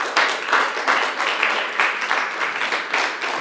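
Applause from a church congregation during a sermon, a dense, fairly loud wash of many hands clapping with a slightly pulsing rhythm, sustained for several seconds without speech.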